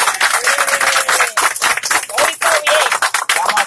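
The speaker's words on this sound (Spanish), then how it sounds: "Un aplauso ahí para el Chamo" Crowd clapping and cheering for a freestyle rapper at a live rap session, steady dense applause with shouts and whistles running throughout, loud and close.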